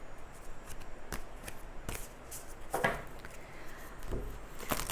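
Tarot cards shuffled by hand, a run of soft riffling flicks and papery slaps repeating close up in an otherwise quiet room, with no talking.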